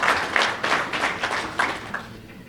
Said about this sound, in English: So we'd like to give them a round of applause for that particular involvement and engagement.